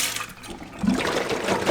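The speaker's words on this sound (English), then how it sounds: "I'm gonna do one more rinse with hot water." Hot water sloshing and gushing as a dirt bike hydration reservoir is rinsed and emptied, a brief close splashing rush that swells louder partway through.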